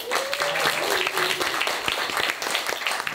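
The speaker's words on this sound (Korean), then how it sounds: "지금 여기 무대 위에 계시진 않지만 영길 선배님께 박수 한 번만 부탁드립니다" Concert-hall crowd at a college graduation rock show gives a moderate round of applause for a senior guitarist, scattered hand claps continuing steadily, with some faint voices mixed in.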